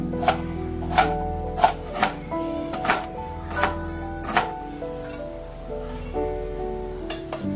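Roasted coconut, roasted onion and whole spices for a village-style masala paste chopped finely on a board, a series of sharp knife taps at an uneven steady pace, close and clear, with a faint background hum.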